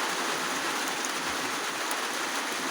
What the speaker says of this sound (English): the rain is very heavy there